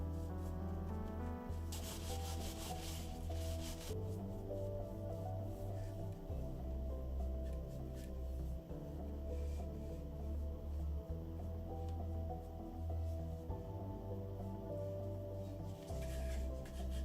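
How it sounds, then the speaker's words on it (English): A cloth rubs back and forth on a custom wooden Viking hammer, wiping the dye off in long repeated strokes that stay close and steady, with a low hum underneath. "I'm giving this a good wipe down to get all that dye off"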